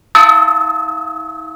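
A Japanese temple bell is struck once, with a sharp metallic attack followed by a clear, sustained ring that holds several steady tones and decays slowly, loud and close.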